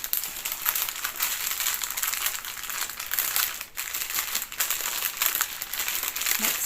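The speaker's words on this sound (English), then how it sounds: "I'm just going to fold these guys up. pop them back in their envelope." Paper or plastic packaging is folded and pushed into an envelope, a continuous close crinkling and rustling with a few brief pauses and no speech.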